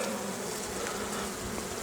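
Honeybees at a hive in a forest make a dense, steady buzzing hum, close and continuous for a couple of seconds with no voices.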